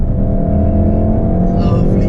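Volkswagen Golf R coupe, four-wheel drive, its engine droning steadily and loudly from inside the cabin as the car accelerates, a constant low rumble with no break.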